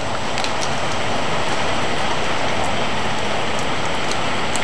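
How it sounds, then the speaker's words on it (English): Water dripping and pattering off an awning, a dense, constant hiss of drops close by with no break and no voices. "the water's dripping down off of it"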